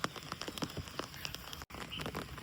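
Rain falls steadily on a farm field, a faint, dense patter of scattered drops and light ticks with no voices.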